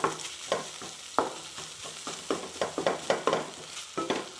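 Scrambled egg with pepper is stirred in a frying pan, the spatula scraping and tapping in quick repeated strokes over a soft, close sizzle.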